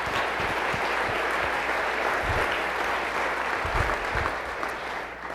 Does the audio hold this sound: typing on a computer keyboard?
no